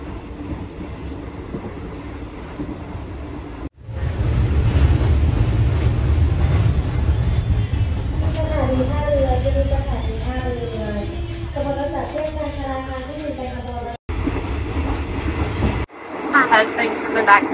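Third-class train riding in Thailand: a loud rumbling rattle of the carriage with rhythmic clatter and hiss, interrupted by abrupt cuts, with people talking and an occasional tonal squeal over the running noise.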